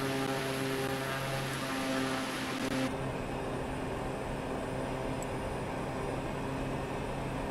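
A Pilatus PC-6 Turbo Porter turboprop engine drones steadily in Microsoft Flight Simulator 2020, a constant loud hum with a faint tonal whine that drops away partway through while the rushing engine noise continues.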